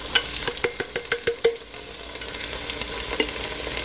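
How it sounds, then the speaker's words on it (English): Canned tomatoes go into a pot of softening onions and carrots, with a quick run of sharp clacks and stirring knocks over a steady sizzle, then the sizzle continues alone with occasional taps. "So now we can add our can of tomatoes."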